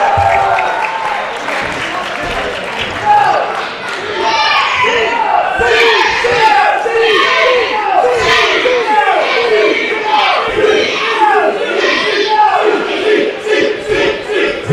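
A crowd at a 3WA professional wrestling show roars with sustained cheering and shouting as a wrestler makes his entrance, dense and loud throughout with a swell after the first few seconds.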